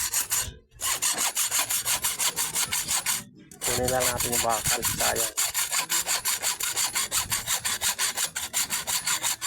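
Rhythmic back-and-forth strokes of a hand saw rasp steadily through material, close by, with brief pauses and a few spoken words in Filipino in between.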